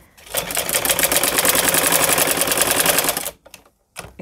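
A sewing machine runs a straight stitch in a fast, even mechanical patter, loud and close, for about three seconds before stopping, with a few brief clicks after.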